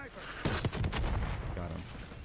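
Rapid gunfire bursts from the Call of Duty Black Ops 6 video game on PS5, several sharp shots clustered early then continuing mixed with game sounds and faint voices.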